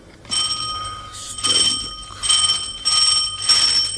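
An electric doorbell rings indoors with several bright, metallic bursts of ringing in quick succession, loud and close, with no voices over it.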